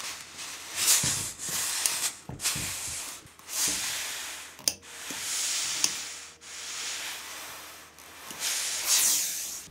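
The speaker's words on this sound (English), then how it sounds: "I'm turning the seam upwards and pressing it with steam iron" Repeated bursts of soft hissing steam from a steam iron pressing a sweatshirt seam, rising and fading several times, with faint clicks and bumps in between, close by and otherwise quiet.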